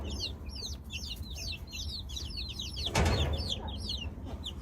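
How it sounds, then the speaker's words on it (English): Young chickens cluck and chirp repeatedly in a rapid, rhythmic series of calls close by, with a brief rustling burst midway and no speech. "Maya, leave the chicken alone."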